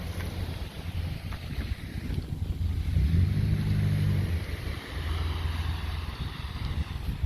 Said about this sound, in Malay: nelayan pun dah mula bawa bot kala ke sini